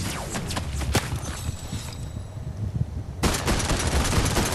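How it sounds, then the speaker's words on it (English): Fortnite gunfire cracks out in loud, rapid bursts close by, with a short lull before a fresh volley of sharp shots. "Oh God, I'm being shot at."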